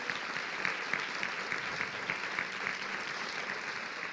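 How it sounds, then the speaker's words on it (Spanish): A church congregation at an evangelistic service gives a steady, sustained round of applause, heard at a distance with no talking over it. "Dale un aplauso fuerte."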